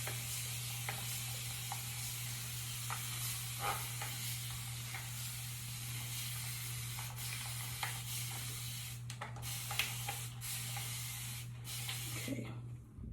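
Hair product sprays from a bottle in a long, continuous hiss, then breaks into short repeated bursts, fairly faint and close, with a steady low hum underneath.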